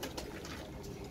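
A brief burst of pigeons cooing from a flock of fourteen Pakistani pigeons kept by a fancier, heard faintly through steady background noise.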